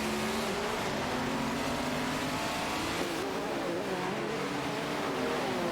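Ferrari 312 PB and Porsche 936 race cars in a racing video game, engines droning and rising in pitch together under a dense, steady wash of noise.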